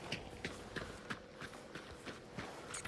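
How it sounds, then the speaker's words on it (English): Horse hooves clip-clopping in a video game, heard as a steady, evenly spaced series of soft thuds, about three per second, fairly quiet over a constant background hiss. "Another horse right there."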